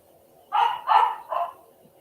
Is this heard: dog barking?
yes